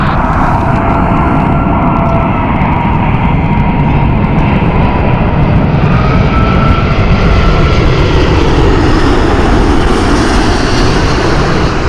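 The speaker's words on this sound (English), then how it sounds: "Here is the sound of those rolling Rolls-Royce engines." An Emirates Airbus A380 with Rolls-Royce engines roars through fog at Heathrow Airport, a loud, continuous, rumbling jet noise that holds steady for the whole stretch.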